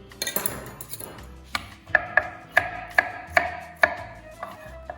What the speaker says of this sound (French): Et avec ce reste, donc on va les émincer.